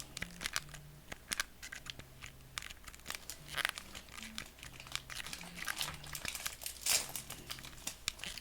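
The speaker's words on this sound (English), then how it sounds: "So if you hear crinkling, sorry, this is me opening a snack" A snack wrapper crinkles and rustles in soft, irregular bursts as it is opened, fairly quiet, with faint electronic game music from Mega Bomberman running underneath.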